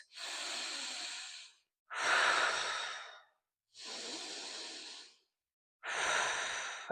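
Slow, deep breathing during a prenatal yoga squat: four long, airy breaths alternating inhale and exhale, each lasting over a second with short silent pauses between, close to the microphone and with no talking.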